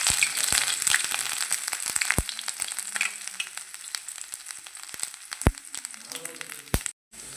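Ginger sizzles in hot oil for a curry leaf pickle, a steady crackling fry with sharp pops and spits scattered throughout, close and fairly loud, cutting off abruptly near the end.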